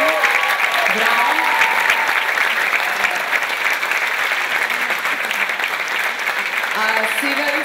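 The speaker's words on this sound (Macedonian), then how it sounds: "Еден огромен аплауз за овие наши невистина кадри гости." A large audience applauds loudly and continuously at a live event, a dense patter of clapping that holds for several seconds without a break.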